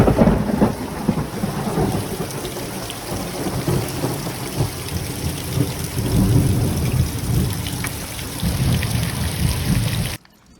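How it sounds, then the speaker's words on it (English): Heavy rain pours steadily with deep rolling thunder rumbling underneath, a dense continuous roar that cuts off abruptly at the end. "The worst torrential rain ever."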